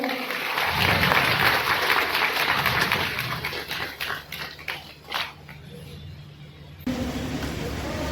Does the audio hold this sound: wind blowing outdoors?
no